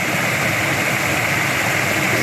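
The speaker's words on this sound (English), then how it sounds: "Look at these waterfalls." Steady broadband rush of water from waterfalls at Horton Spring in Tonto National Forest, Arizona, a continuous even roar filling the scene with no voices.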